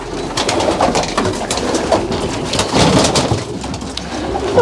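Female pigeons cooing inside the hens' compartment of a racing pigeon loft, several birds overlapping in loud, close, repeated throaty coos with some rustling and no talk.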